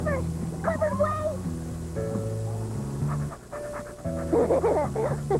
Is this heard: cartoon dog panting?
yes